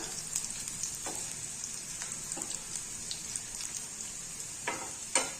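Chillies sautéing in an oiled pan for Pallipalayam chicken make a continuous quiet crackle, dotted with scattered pops and a few louder spatters near the end.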